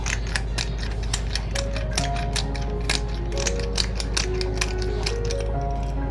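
A pepper mill grinds black pepper onto a homemade pizza, giving a steady run of dry ratcheting clicks and crunches, close and moderately loud, with no talking.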